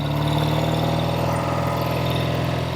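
Engine of a red 1968 Triumph Bonneville motorcycle running steadily up close, a continuous throbbing rumble with rapid, even firing pulses and no talking.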